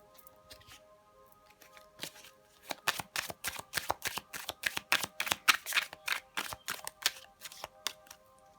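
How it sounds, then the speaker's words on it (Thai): Angel oracle cards shuffled by hand, a close rapid series of crisp riffling and flicking bursts in a steady rhythm, quiet and heard alone. "ขอดูไพ่นางฟ้านะคะ"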